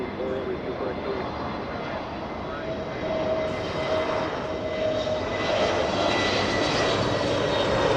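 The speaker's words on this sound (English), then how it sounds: "That's an A321neo flying 2 hours 40 minutes to get to Los Angeles." Airbus A321neo jet on landing approach at Los Angeles International Airport, a continuous engine roar that swells gradually louder over several seconds, heard at a distance with faint talk in the background.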